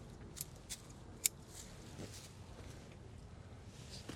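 Hand shears snip branches while a cloud tree, or niwaki, is pruned, giving a few sharp, quiet clicks spaced through a soft, hushed outdoor background.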